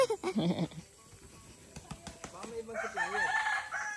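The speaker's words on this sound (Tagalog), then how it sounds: "Ayan, chicken." Chickens cluck and a rooster crows outdoors on a street-food trip in Bicol, with calls at the start and a longer warbling crow near the end, over faint background sounds.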